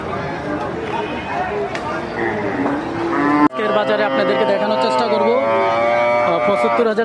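Cattle at a crowded cattle market in Comilla moo loudly and repeatedly, long low bellows that overlap and carry close by, with a busy crowd murmuring behind them.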